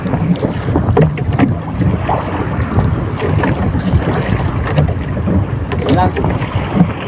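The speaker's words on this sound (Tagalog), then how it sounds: "Mahangin at maalon ngayon mga amigo." Strong wind buffets the microphone continuously over open sea off Camiguin during night net fishing, with a boat's steady rumble and choppy sea noise underneath.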